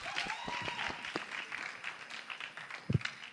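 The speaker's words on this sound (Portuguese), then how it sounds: "Salve de palmas aí, galera!" Church congregation at a worship service applauds, a scattered, fairly soft patter of clapping from a crowd with a few louder individual claps standing out, heard from some distance.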